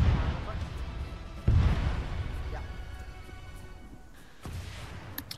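A rocket launcher fires at pelicans in a video game, with a sharp loud blast midway followed by a decaying rumble and a second thump near the end, amid a busy game background and voices.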